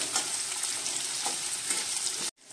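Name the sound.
onion frying in oil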